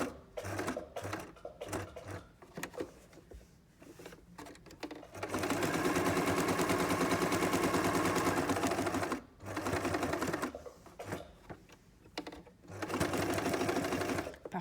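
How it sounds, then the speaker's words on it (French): A domestic sewing machine stitches along a pattern line for pet items, starting with a backstitch: short bursts of needle whirring, then long steady runs of rapid mechanical stitching, loud and close with pauses between. "Et donc je vais venir coudre sur ma ligne ici de départ, hein, ma ligne de patron. Je démarre avec un point d'arrêt."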